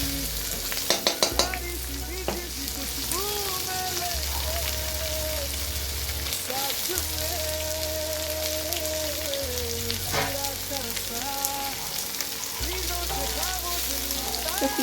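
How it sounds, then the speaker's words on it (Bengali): Onions fry in oil in a wok with bay leaves, dried chillies and whole spices, giving a continuous close sizzle broken by repeated stirring and scraping, with a faint voice in the background. "পেঁয়াজটা লাল লাল করে ভেজে নেবে।"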